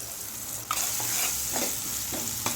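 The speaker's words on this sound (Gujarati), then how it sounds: "ગ્રેવી પ્રોપર તૈયાર થાય ત્યાં સુધી હલાવવાનું છે" Spinach gravy with gram flour, peanuts and sesame cooking in a pan for dhaba-style palak bhaji, a constant close sizzle broken by several scraping strokes of a stirring spoon at irregular intervals.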